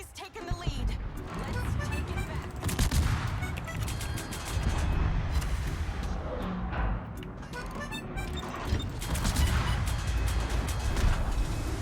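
Naval shells slamming into a warship in World of Warships, a dense run of heavy crashing impacts and rumbling blasts over constant battle noise, with voices talking throughout.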